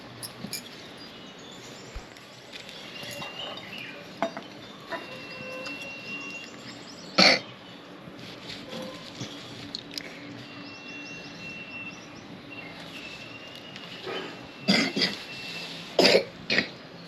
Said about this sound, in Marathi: खोकते का तू?